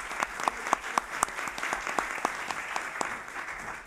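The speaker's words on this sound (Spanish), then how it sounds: "Hay que aplaudirlo." Applause from a conference audience at a talk on poetry, a steady patter of many hands clapping at moderate level for about four seconds, with a few sharper individual claps standing out near the front.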